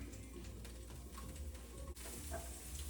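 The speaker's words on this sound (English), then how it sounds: "So we're gonna take about 6-7 mushrooms and then just break them up into the pan." Mushrooms torn apart by hand drop into a hot frying pan, setting off a steady, close sizzle and crackle of frying with faint stirring scrapes throughout.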